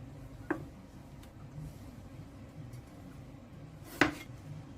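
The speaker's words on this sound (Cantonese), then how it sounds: "將蔥切開， 薑去皮後切片" A knife cuts peeled ginger and spring onion on a cutting board, giving two sharp, isolated knocks several seconds apart against a quiet background.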